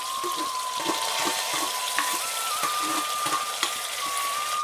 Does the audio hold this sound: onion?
yes